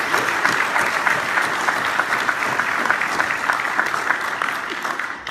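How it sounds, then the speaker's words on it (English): Audience at a Fort Belvoir town hall awards segment claps steadily, a dense even applause filling the room for about five seconds before easing slightly at the end. "Just a very quick little clap for the director of the awards who put together."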